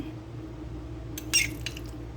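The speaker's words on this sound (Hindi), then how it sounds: "ग्रीन कलर का सागू डालेंगे दोनों में।" Green sago is spooned into two glasses already holding mango, giving a brief wet, glassy plop and clink midway through a quiet kitchen hush.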